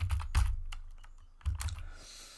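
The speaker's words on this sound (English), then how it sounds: "we can just go and type the name of our new Excel file" Quiet, close computer keyboard typing, a few quick clusters of soft key clicks with a short pause between them, as a file name is entered.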